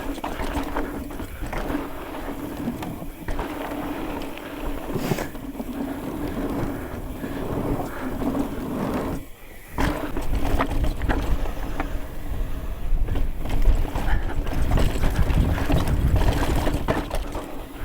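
Strong wind roars and buffets continuously, rumbling low and gusting harder near the end, with no voices.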